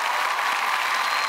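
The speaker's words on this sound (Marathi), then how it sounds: "दोघांसाठी एकदा जोरदार टाळ्या." A studio audience claps loudly, a dense, continuous wash of applause close up with no pauses through the short burst.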